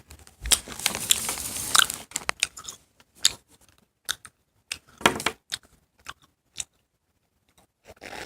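A homemade Popin' Cookin' macaron is bitten into and chewed up close, with a burst of crunchy crumbling at first followed by sparse, quiet chewing clicks and soft crunches separated by silence.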